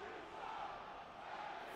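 A basketball arena crowd cheers in a steady roar that fills the whole stretch, fairly distant and even, with no clear voices on top.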